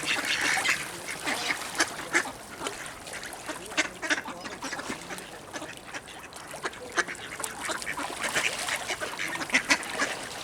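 Ducks quacking on a freshwater riverbank, a busy flock giving repeated rapid quacks and honks near and far, uneven bursts throughout with no speech.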